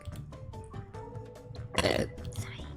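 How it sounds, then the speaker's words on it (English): A woman burps loudly once near the middle, a short throaty eructation against a background of quieter clicks and low sounds. "I sure do burp a lot today."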